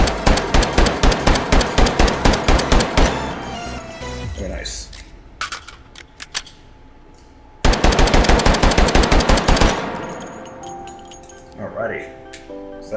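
A .45 ACP Glock pistol firing in the video game H3VR rings out in two rapid strings of sharp, close shots at a steady quick rhythm, with metallic clicks and handling noises in the pauses.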